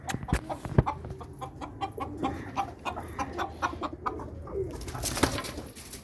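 Chickens, including a white rooster chasing a red one, cluck and squawk nearby in a backyard pen with rabbits and pigeons, with short repeated calls over faint rustling and background chatter.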